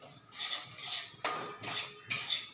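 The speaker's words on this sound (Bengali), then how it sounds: "এবার আমরা একটু এটাকে লাল করে ভেজে নেব," A spatula scrapes through semolina dry roasting in a pan, three long rasping strokes with sharp starts, near and moderately loud, nothing else heard.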